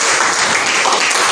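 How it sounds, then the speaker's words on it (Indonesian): Dense audience applause at a teacher training session, a loud, continuous roar of many hands clapping together with no voices over it. "Iya, tepuk tangan."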